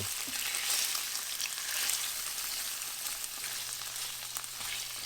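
Food sizzles and crackles in an oiled pan for moo shu, a loud, close, steady fry with soft stirring scrapes and no voices.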